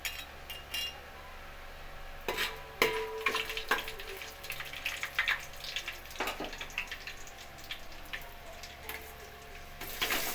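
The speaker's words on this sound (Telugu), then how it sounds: "ఆ తర్వాత బిర్యానీ ఆకు, చెక్క, లవంగాలు, యాలకులు వేసుకొని కొంచెం ఫ్రై అవ్వనివ్వాలి" Bay leaf, cinnamon, cloves and cardamom fry in oil for Bagara rice, giving a steady close sizzle with scattered sharper pops and clinks, and no voices.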